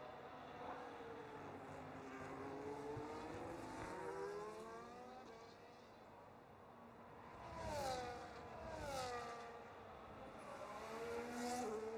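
Race cars pull out of the pits in a Formula-style racing video game set at Italy, with several engines whining up through the gears, rising and falling as the cars pass near and fade off.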